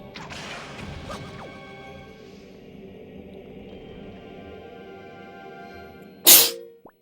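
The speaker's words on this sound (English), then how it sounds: "Sorry, just sneezed." One sudden, loud sneeze erupts near the end, a sharp burst after several seconds of steady Zelda: The Wind Waker HD game music and ambience.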